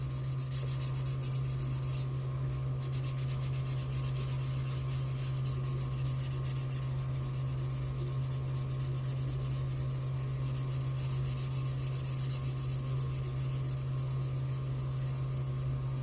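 A Revell 1969 GTO Judge model car body is being wet sanded: a steady, close, continuous rasping rub that carries on evenly throughout, with a constant low hum beneath it and no talking.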